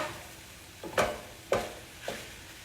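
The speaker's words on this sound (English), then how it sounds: "And then I'm going to stir it all around." Spoon stirring taco meat seasoned with cumin and chili in a pan, three scraping strokes roughly half a second apart over a quiet sizzle, fairly close with no voices.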